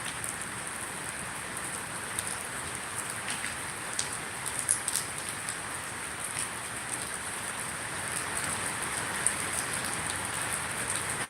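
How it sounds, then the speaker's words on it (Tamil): Steady, heavy northeast monsoon rain falls at night in a continuous dense hiss, with occasional sharper drops standing out, and no voices. "நேரம் செல்ல செல்ல மழையின் அளவு அதிகரிக்கிறது"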